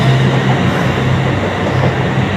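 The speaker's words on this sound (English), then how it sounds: "This and the 323 have the most iconic noises of an EMU probably ever existed." A British Rail Class 323 electric multiple unit runs steadily at a station, its continuous loud rolling rumble with a low motor tone, heard alone and close throughout.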